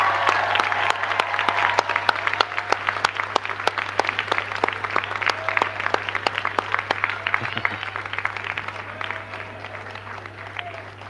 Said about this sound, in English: Give them a huge cheer and a round of applause.